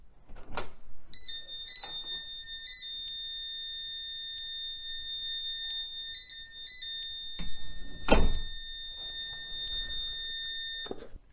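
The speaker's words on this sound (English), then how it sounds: "the alarm triggers when the door opens" A homemade bedroom door alarm's buzzer sounds when the door is opened, a shrill, steady electronic tone that holds for several seconds, cuts off briefly, then resumes, with a couple of clunks from the door in between.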